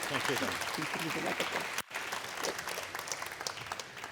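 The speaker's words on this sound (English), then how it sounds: "Please give a round of applause for our panelists, Antonio and Lorenzo." A conference audience applauds the panelists at an ocean race summit in Genoa, steady dense clapping filling the hall with a brief dip midway, mixed with some voices.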